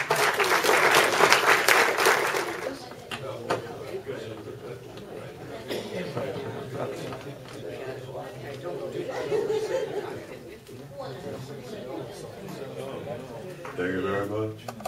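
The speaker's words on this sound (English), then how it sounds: "Can we get a round of applause?" An audience at a Kiwanis club meeting gives loud applause that fades after a few seconds into chatter and scattered chuckles, with someone speaking near the end.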